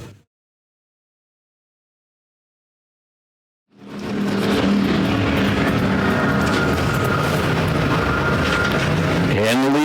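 American factory stock cars at Perris Auto Speedway roar loudly into a turn, a dense pack of engines surging in after about four seconds of silence.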